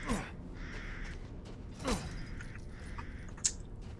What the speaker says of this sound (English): I'll get those birds.